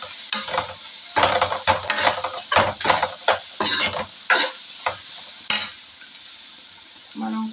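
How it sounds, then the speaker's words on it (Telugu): Ginger frying and being stirred in hot oil in a pan, with a steady sizzle under a run of repeated scraping stir strokes and utensil clinks, close and fairly loud, fading to a quieter sizzle near the end. "కొద్దిగా అల్లం వేసుకున్న తర్వాత కొంచెం నూనెలో వేగిన తర్వాత"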